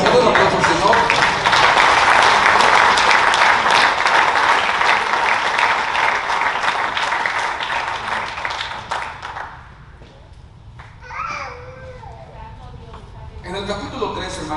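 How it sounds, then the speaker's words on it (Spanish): A church congregation breaks into dense, loud applause that fades after several seconds, followed by scattered quieter claps and voices. "Un aplauso al Señor."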